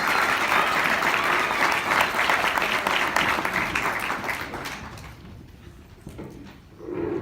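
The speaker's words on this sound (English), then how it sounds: "Give Peter a round of applause." A crowd applauds a retired teacher, coach and athletic director at a school hall of fame induction, steady dense clapping for about five seconds before thinning and fading, with a brief swell at the very end.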